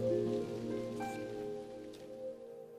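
Rain patters softly on surfaces beneath gentle sustained musical tones in a children's story reading, a quiet, steady backdrop without speech.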